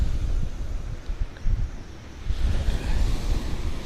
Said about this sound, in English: the wind's a bit strong to get the mic back out of the wind